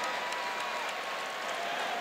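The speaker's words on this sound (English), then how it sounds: "this crowd, they're not used to cheering kind of free throws the way they're cheering free throws right now" Crowd noise at a Cincinnati Bearcats versus Temple Owls college basketball game, a steady wash of cheering and clapping for free throws, fairly distant and even throughout.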